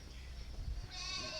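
Alpine Czech dairy goats bleat at a farm near Shymkent, a wavering bleat rising clearly over low background noise near the end of the brief moment.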